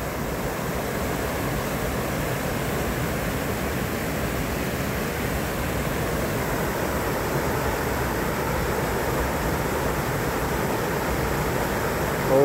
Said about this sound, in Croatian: Sada je voda preljeva ovom preko.